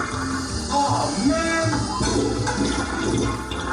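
A toilet flushes in a loud continuous rushing swirl of water lasting several seconds, with a brief exclamation from a voice over it.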